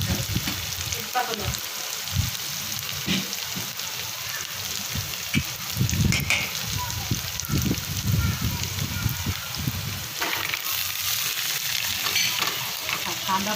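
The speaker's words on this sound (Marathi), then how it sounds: "तोपर्यंत कोथिंबीर चांगली तळली जाते." Coriander leaves with turmeric frying in oil in a pan for a garlic-coconut chutney, a continuous crackling sizzle broken by repeated scraping stirs of a spoon, close up, with a voice talking faintly at times.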